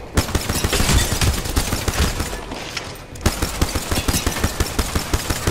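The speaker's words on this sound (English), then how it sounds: "He shot me through the wall, let's go." Rapid bursts of gunfire in the shooter game Apex Legends, with a P2020 pistol in play: loud, close, dense volleys with a brief pause near the middle before sharp, rhythmic shots resume.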